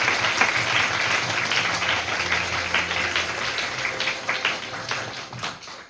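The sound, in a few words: audience applause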